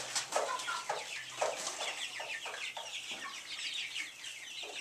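Young chicks in a barn give a steady stream of high, rapid clucks and peeps, several birds calling over one another at close range with no talking.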